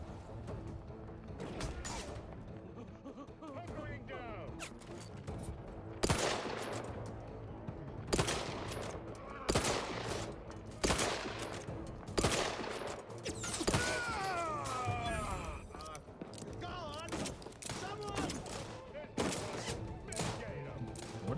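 Sustained gunfire rattles through a combat encounter in The Outer Worlds 2, loud and dense with overlapping automatic bursts and single cracks that hammer steadily throughout, backed by a busy layer of game effects.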